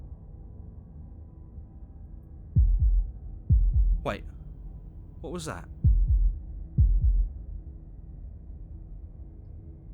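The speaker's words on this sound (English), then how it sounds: "That was the sound of a heartbeat" A heartbeat sound effect from the video game Slay the Princess throbs as several deep, paired low thuds spaced across the clip, loud and close, with a voice speaking briefly in between.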